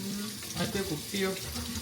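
A large juice jar is rinsed under a running kitchen tap, the water rushing steadily and fairly close while a voice talks over it.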